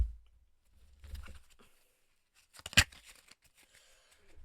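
A tarot card deck is cut and handled up close, with soft papery shuffles and slides, a brief quiet stretch, then a crisp snapping card sound followed by light fluttering rustles.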